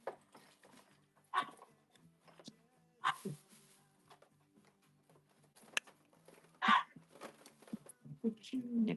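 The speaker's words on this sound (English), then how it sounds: "Hear my dog out there barking." A dog barks outdoors in the distance, a few faint separated barks heard under someone talking nearby indoors.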